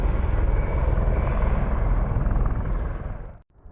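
A US Navy military aircraft flies near the end of a runway in San Diego with a loud, steady, broadband engine roar that holds close by and then cuts off abruptly at the end.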